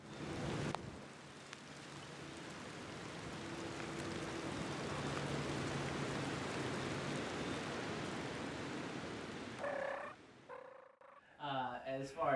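A wild turkey gobbles near the end of a spring hunt, after a long steady hiss like rain, with a few loud, rough, clustered calls close by.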